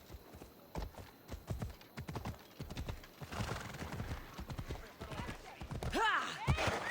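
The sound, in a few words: horse galloping and neighing in Assassin's Creed Odyssey video game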